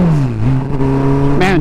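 A turbocharged Suzuki Busa motorcycle engine revs loudly and steadily up close, holding a rich drone before a sharp rise in pitch near the end.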